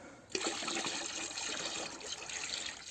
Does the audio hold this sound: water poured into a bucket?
yes